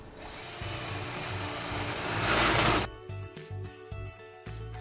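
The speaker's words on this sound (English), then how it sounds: "drill a new mounting hole" A power drill whines and bores a mounting hole through an elevator ceiling canopy for a few seconds, rising in intensity before stopping abruptly, with music continuing underneath.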